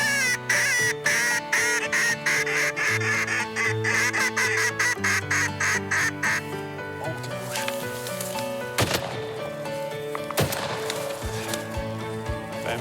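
Mallard drakes and hens quack in a rhythmic run of calls during a late-season duck hunt in Québec, loud at first and then thinning into scattered calls.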